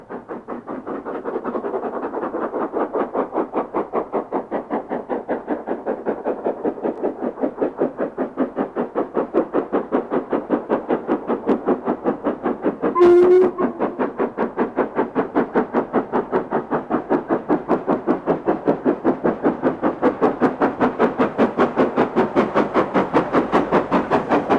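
An LMS express steam locomotive, a big Pacific, runs from Crewe back to Carnforth, its rapid regular exhaust beats and rolling clatter steady and loud throughout, with a brief sharp whistle-like burst midway.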